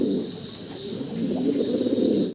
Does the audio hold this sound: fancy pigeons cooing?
yes